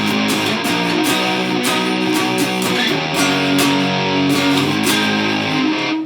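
Electric guitar played through a Big Muff fuzz pedal, thick and heavily distorted with a hissing noise floor, strummed in steady loud chords that ring on without pause.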